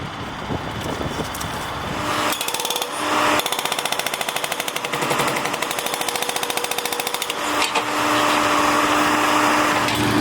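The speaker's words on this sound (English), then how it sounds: "they're still hammering away at the letters" Jackhammer pounding on a paved street in Washington, D.C., breaking up painted lettering during demolition, a loud, rapid steady rattle that starts and stops in bursts alongside engine noise.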